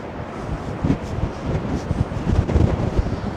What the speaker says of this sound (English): I'm not sure you can hear that wind, but yeah, it's pretty darn strong